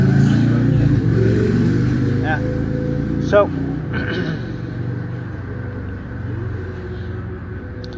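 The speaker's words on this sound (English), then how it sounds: "So a lot of traffic noise." Outdoor traffic noise in Virginia Beach, a continuous low rumble of passing cars and engines with one vehicle revving past, while someone talks close over it.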